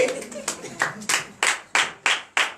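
A church congregation in Benin claps together in praise of Jesus, giving about eight loud, evenly spaced unison claps in a steady rhythm, each burst sharp and then decaying, with a voice heard briefly at the start.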